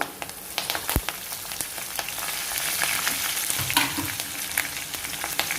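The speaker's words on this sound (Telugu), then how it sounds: "ఆయిల్ కాగిన తర్వాత మనం తీసుకున్న 1 టీ స్పూన్ జీలకర్ర, 2 టీ స్పూన్లు ధనియాలు, పావు టీ స్పూన్ మెంతులు వేసేసుకోవాలి." Cumin, coriander and fenugreek seeds crackle and sizzle in hot oil, with dense sharp pops over a continuous frying hiss and an occasional stirring clink; no one speaks.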